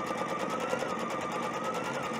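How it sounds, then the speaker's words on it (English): A Brother embroidery machine stitching a straight running stitch around fabric and stabilizer, a steady, loud, rapid mechanical chatter with an even pulsing rhythm and no voices. "I'm just going to let it sew that a straight running stitch all the way around one time"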